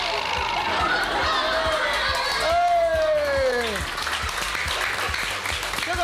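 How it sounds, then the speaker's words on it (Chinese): A studio audience with children claps in a steady, lively burst, close and continuous, with a few voices calling out over the clapping. "掌声鼓励"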